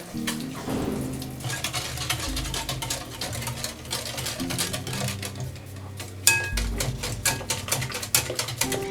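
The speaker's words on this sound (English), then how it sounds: "I'll just mix with a whisk." A whisk beats cupcake batter with milk and oil in a bowl, producing quick rhythmic clinks and sloshing that run continuously, close and fairly loud, with a few sharper knocks against the bowl.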